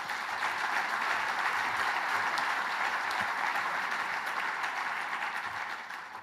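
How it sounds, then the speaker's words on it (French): An audience applauds Franck Rajad, president of CARA, with dense, steady clapping that holds for several seconds and eases slightly at the end. "Je vous demande d'applaudir Franck Rajad"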